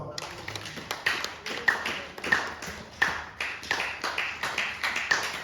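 Church congregation clapping in a steady rhythm, about two claps per second, close and fairly loud, with faint voices underneath.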